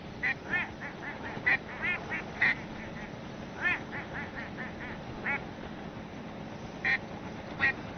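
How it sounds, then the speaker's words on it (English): Ducks and geese in the video game Dawn of Defiance honk and quack repeatedly, in short scattered bursts over a steady low background ambience, without talk. "Yeah, the ducks came out of nowhere."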